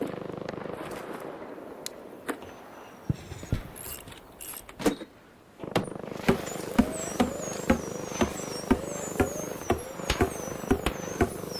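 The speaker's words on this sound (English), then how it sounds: "let's let off some fireworks" Fireworks let off in the ARC Raiders video game: a burst of sharp bangs and crackles, then a rapid, regular string of popping explosions with whistling streaks above a steady game backdrop, no talk.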